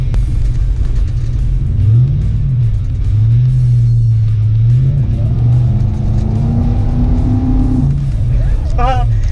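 Modified Toyota car engine revving up under load, a low throaty drone rising in pitch over several seconds, loud and close, with a passenger's voices talking over it inside the cabin.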